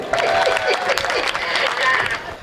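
A poetry-recital crowd bursts into loud applause for poet Lakshman Nepali, dense clapping that swells and fades over a couple of seconds while a voice carries on over it.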